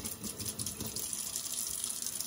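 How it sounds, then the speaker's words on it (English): Warm water running from a bathroom tap while preparing a guinea pig bath, a soft steady gushing stream, fairly faint and uninterrupted. "we're going to turn on our water. Don't want to get it too hot."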